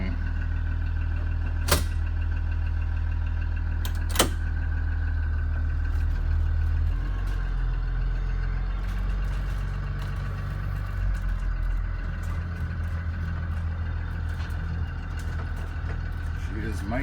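A 2016 BlueBird Vision bus engine idles steadily, with a deep low rumble that holds throughout. Two sharp clicks or knocks cut through early on, and the idle note shifts slightly partway through.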